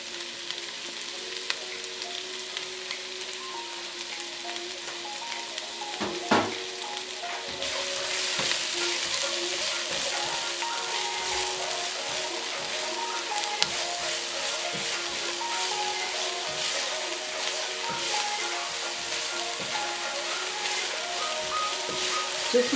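Onions fry in oil for a chicken thigh karahi, a soft crackle that jumps into a louder, dense, rain-like sizzle and keeps going steadily.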